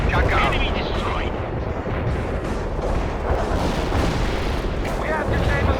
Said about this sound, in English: Strike completed. Kamchatka out. Enemies caught in the blast.